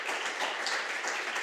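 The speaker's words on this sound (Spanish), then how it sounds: "Un aplauso, por favor" An audience at an academic talk applauds the speaker, a soft, even patter of many hands clapping that stays steady and moderately distant throughout.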